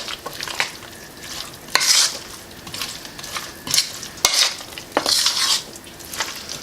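A scalloped potato, onion and diced ham mixture being stirred in a bowl, with repeated scraping and wet sloshing strokes in an uneven rhythm, close and fairly loud, no voices.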